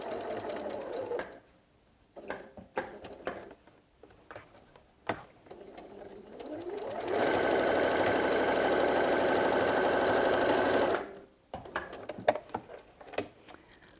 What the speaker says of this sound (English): I'm just going to sew across an inch or so, a few stitches backwards, move my foot across and carry on.